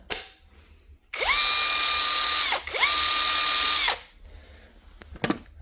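A Makita cordless power tool spins up twice in quick succession, each a loud steady whine lasting over a second with a brief pause between, followed by faint handling clicks.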